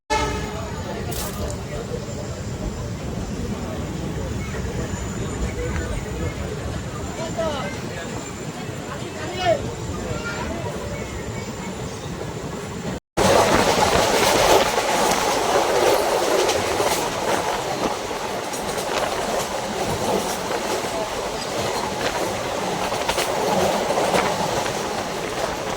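Passenger train running on rails between Guwahati and New Bongaigaon, a continuous rumble and clatter from inside the carriage that grows louder and rougher after a sudden cut halfway, with voices faintly in the background.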